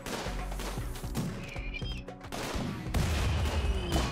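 Sniper gunfire in a desert colony-building game: sharp single shots and scattered bursts crack at mid distance, spaced irregularly, with a heavier volley toward the end.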